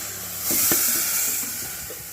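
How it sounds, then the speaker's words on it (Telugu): Ghee sizzling and bubbling in a pan, a steady airy hiss with soft crackles swelling midway, close and fairly quiet. "నెయ్యి అయితే ఎలా మరుగుతుందో"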